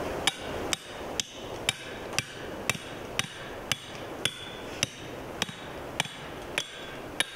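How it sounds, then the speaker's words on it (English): A ground talon trap stake hammered into dirt at a dirt hole set: about fourteen sharp metallic strikes at a steady, even pace, close and fairly loud, with no talking. "We're using our ground talon stake, and we're going to drive that in the ground right here."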